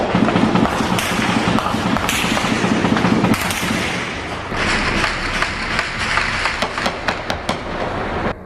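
Gunfire during an attempted gang invasion of the São Carlos complex in central Rio de Janeiro, heard as a dense, continuous stretch of sharp cracks and thuds with bursts of rapid shots, steady and loud throughout with no clear talk.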